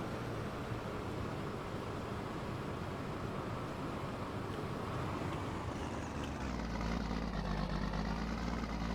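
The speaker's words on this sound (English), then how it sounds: "You can see we've got a very distinct idling engine sound for the 8820," A John Deere Turbo 8820 combine idles in Farming Simulator 22, a steady low engine drone with a constant hiss, its tone shifting slightly lower near the end.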